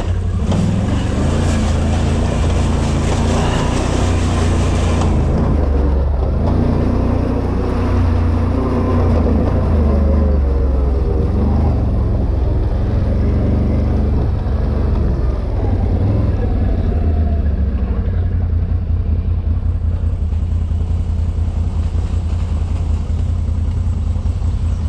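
Off-road riding with a Can-Am Renegade 1000 and a Polaris Scrambler 1000S ATV on technical hill climbs and mud: loud, steady low engine drone that swells and varies throughout, continuous and close.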